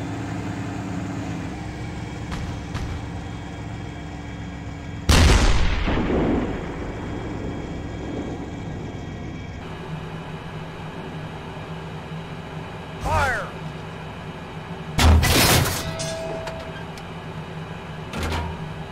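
Artillery and gunfire in the tank game Steel Beasts: a few sharp, heavy booms spaced several seconds apart, each ringing out and decaying over a low steady engine hum.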